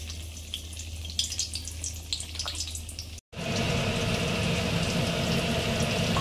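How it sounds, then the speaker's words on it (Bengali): Pieces dropped one by one into hot oil in a pan: a soft watery hiss swells abruptly after a brief gap into a loud, dense, steady frying sizzle close by. "এবার একে একে তেলে ছেড়ে দিতে হবে।"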